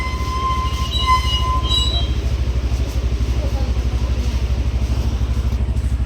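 A Hero Honda motorcycle engine thumps steadily nearby with a low, even, pulsing beat, plus a few brief high tones near the start.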